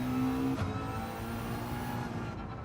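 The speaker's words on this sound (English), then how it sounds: "Sounds like it's blowing on the turbo." A Porsche Cayman in a racing video game revs steadily with a turbo, a continuous droning engine tone that holds at a fairly constant pitch before tapering off at the end.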